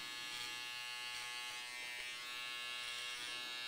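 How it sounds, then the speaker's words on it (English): An electric hair trimmer buzzes close and steady in a high-pitched whine, cutting hair over a comb with faint rhythmic swells as it passes through, with no talking. "I can go a little trimmer over comb, tighten this up if I want to, and then work my edges."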